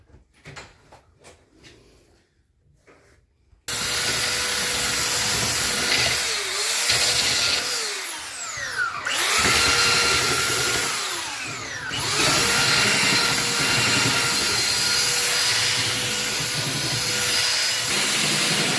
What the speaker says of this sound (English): Now he's going to sand the edges so it's not rough.